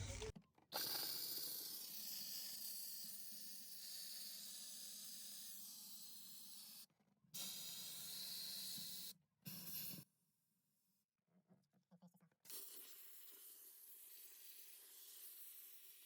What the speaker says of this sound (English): So you should see steam coming from here when you're fully done up here.